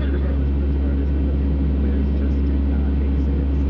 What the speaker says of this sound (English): riding a plane with propellers right outside the window